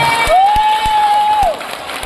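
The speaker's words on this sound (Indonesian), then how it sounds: "Tepuk tangan lagi dong untuk mereka semuanya." At a school quiz competition, a crowd of children cheers and claps loudly under a sustained whistle-like tone, with shouts mixed into the steady noise.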